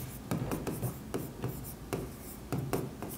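A pen writes by hand on paper while hexadecimal numbers are worked out, a close, steady scratching with short repeated strokes and brief pauses.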